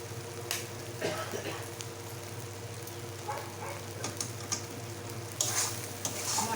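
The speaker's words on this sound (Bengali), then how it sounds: "এটা ধুয়ে একটু জল দিয়ে দিলাম ভালো করে কষিয়ে নিই" Spice masala is stirred and fried in a pan, with repeated spoon scrapes and soft sizzling that stay close and moderate in level throughout.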